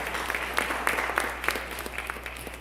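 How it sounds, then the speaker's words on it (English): A church congregation applauds during a Sunday worship service on Pastor Appreciation Day, with a steady wash of clapping that has light peaks, heard at moderate distance over a low hum. "Let's give her a round of applause."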